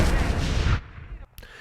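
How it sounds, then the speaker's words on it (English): A cannon fires in a Hitman video game, a loud deep blast that rumbles for under a second before dropping away to quieter background sounds. "you can force Caruso to escape and pluck him out the sky with a cannon"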